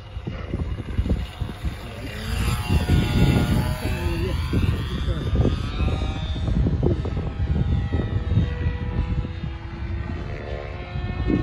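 An RC model airplane with an OS 55 engine flies at an RC park, its engine a continuous buzzing drone whose pitch rises and falls as it passes, loud throughout while people talk over it.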